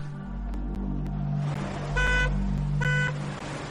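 A car horn sounds two short honks from a vehicle parked at the roadside with brake lights on, heard over a steady low engine rumble and traffic noise.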